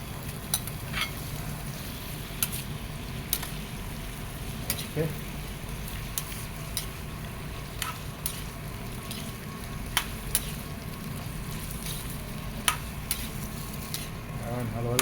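Chicken pieces fry in a pan with a steady sizzle while a utensil stirs and scrapes, giving sharp clicks against the pan at irregular intervals, close and moderately quiet.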